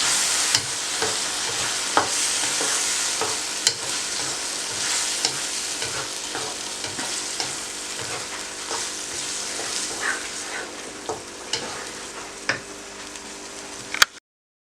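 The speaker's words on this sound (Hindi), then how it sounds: "ये मूंग दाल अच्छी तरह से भुन गई है" Moong dal roasts in a pan over a high flame with a constant hiss of sizzling, broken by scattered sharp scrapes and taps from stirring, until it cuts off near the end.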